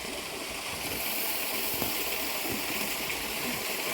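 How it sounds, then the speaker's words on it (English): Water pours steadily down a waterfall in the rock gully of RHS Rosemoor gardens near Torrington, a continuous broad rushing hiss with no pauses, close and fairly loud. "Beautiful waterfall."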